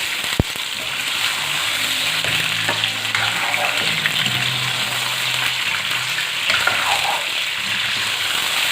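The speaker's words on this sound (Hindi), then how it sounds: "इसको हम 5-6 मिनट तक फ्राई करेंगे ऑयल के अंदर" Chicken frying in oil over medium heat for a karahi, a dense, even sizzle and crackle that runs steadily throughout, close and loud with a sharp clink near the start.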